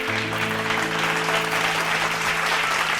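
Congregation clapping during a Tamil church message, a steady wash of hand claps over a sustained organ-like keyboard chord that holds beneath throughout.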